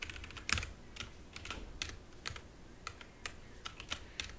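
Someone types a chmod command on a computer keyboard during a red-team demo: quiet, irregular keystrokes in short runs of clicks, with no voices.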